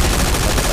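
Gunfire from an unusual gun in the video game Point Blank, a loud continuous burst of rapid shots filling the short moment with no pause.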